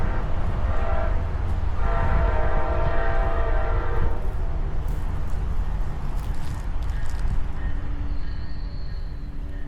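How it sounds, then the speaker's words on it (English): A ten-coach Brightline passenger train rolls past on the Orlando line with a steady, loud rumble of wheels and engine, and long horn blasts sound from about 0–4 seconds before fading into continuous track noise. "Here's the train on the Brightline-owned Orlando line trackage."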